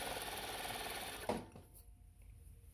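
A New-Tech GC-562-01DA industrial sewing machine runs fast through fabric with a steady whirring stitch, then stops with a short clunk, leaving a quiet room.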